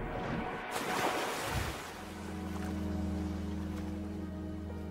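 Muffled underwater ambience in the game Wuthering Waves: a steady low watery drone with soft sloshing, following a brief louder rush at the start, with no talking.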